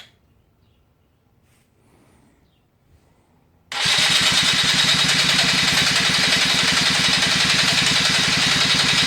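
A Polaris 50cc two-stroke engine is cranked over during a compression test, starting abruptly after a few quiet seconds and continuing as a loud, steady rapid chugging with dense mechanical buzz through the rest.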